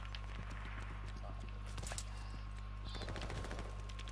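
Quick bursts of shotgun fire in Call of Duty: Vanguard team deathmatch, sharp reports scattered over a steady game hum, with a few crisp hits clustering near the middle and end.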